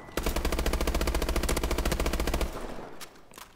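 In Call of Duty: Advanced Warfare, a weapon fires one loud, rapid automatic burst for about two seconds, then stops and fades into a scattered tail of echoing noise.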